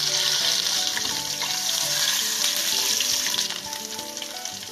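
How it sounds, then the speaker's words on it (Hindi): Ginger garlic paste fries in hot oil with a bright, dense sizzle that crackles steadily at close range, joined by occasional stirring sounds. "इसमें अदरक लहसुन का पेस्ट जाएगा। इसको करेंगे फ्राई जब तक ये हल्का सा फ्राई होता है।"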